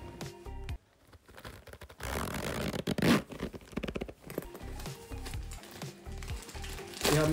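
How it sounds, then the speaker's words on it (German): A zipper on a new Calvin Klein bag is pulled open in a few scratchy, rasping bursts, close and fairly loud, followed by crinkling rustles of packing paper. "Selbst dieser Reißverschluss ist einfach so schräg."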